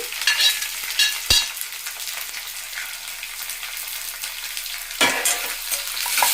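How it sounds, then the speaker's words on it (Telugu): Green chillies, curry leaves and onions, with ginger pieces, fry for upma in a pan. A close, crackling sizzle is punctuated by a sharp utensil clank early on and a louder burst of stirring near the end. "ఇది బాగా వేగిపోవాలి. బాగా వేయించుకోవాలన్నమాట."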